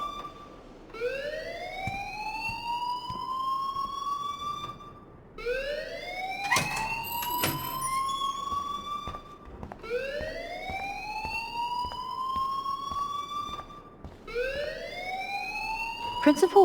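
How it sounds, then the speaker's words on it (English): A school fire alarm in the video game Life is Strange wails in repeated rising siren sweeps, about four cycles each climbing then cutting off, loud and steady with occasional sharper clanks. "please turn off that alarm since that's your job"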